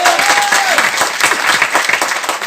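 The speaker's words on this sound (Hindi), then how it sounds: "जोरदार तालियां एक बार।" Loud applause from an audience at a direct-selling company event, dense clapping throughout a short burst, close and energetic.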